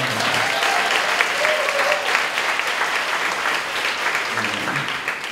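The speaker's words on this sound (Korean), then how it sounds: "우리 박수 한번 쳐줄까요?" An audience in a church clasps steadily throughout, a dense, even wash of applause at moderate loudness with no pauses.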